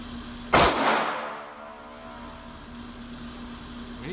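A Sig P365 pistol fires one sharp, loud report that decays over about a second, then steady background hum and quiet.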